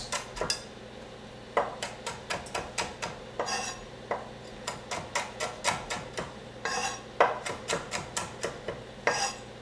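Knife chopping smoked almonds on a cutting board, a steady run of sharp, close taps and clacks at a fairly even rhythm, with a few brief pauses, and no talking.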